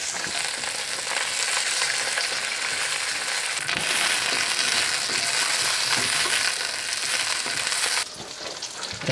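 Pea pods and celery stir-frying in hot oil give a loud, continuous sizzle with bursts of stirring and scraping, easing slightly near the end.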